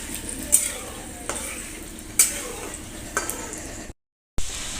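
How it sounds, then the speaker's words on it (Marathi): Peanuts frying in oil sizzle steadily and fairly loudly, with occasional clinks and scrapes of a utensil stirring the pan and a brief drop to silence near the end. "छान तळून घेते शेंगदाणे"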